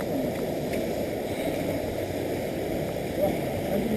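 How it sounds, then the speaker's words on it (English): A small waterfall flows under a bridge in southern China, giving a steady, dense rush of water close by that continues without break for the whole stretch. "There's a little waterfall happening."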